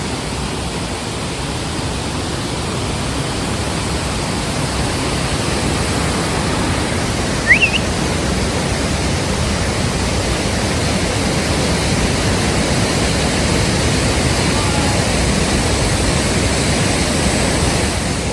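A waterfall near Paderu roars as a steady, unbroken wash of broadband noise, constant in loudness throughout, with a faint chirp midway and no speech.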